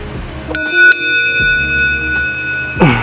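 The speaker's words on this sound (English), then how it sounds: "So this bell is used to ward off bears in the area." A bear bell on a hiking trail in Japan is struck loudly several times, its clear metallic rings decaying with long shimmering overtones, close and alone with a faint outdoor background.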